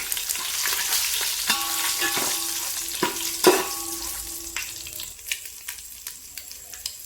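Whole spices such as star anise stirred in a hot oiled pan for egg biryani, giving a steady close sizzle broken by scraping spoon strokes and a few sharp clinks, easing off toward the end.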